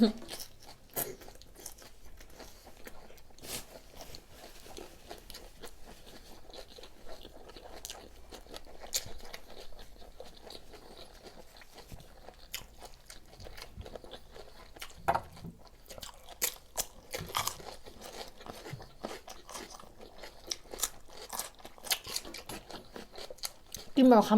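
Biting and chewing of big, fresh cockle miang wraps with rice noodles, vegetables and dipping sauce, eaten by hand: repeated crunchy bites and wet chewing up close, with a voice talking in between.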